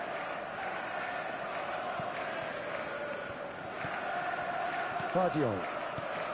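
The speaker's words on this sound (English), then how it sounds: "the crowd level has gone up a notch or 10" A video game football stadium crowd roars steadily after a goal, a loud sustained wash of cheering under a commentator's voice.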